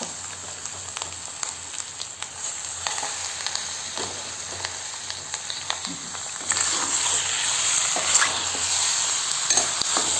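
Liver masala sizzling in hot oil in a pan over low heat, a steady close crackle and hiss broken by scraping stirs, growing a little louder toward the end.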